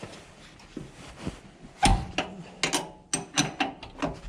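Box wrenches work a 13 mm jam nut on the steering link of a John Deere L120 lawn tractor, giving a few sharp metallic clicks and clanks, scattered and close, with a quiet gap between bursts.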